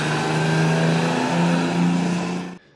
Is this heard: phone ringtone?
no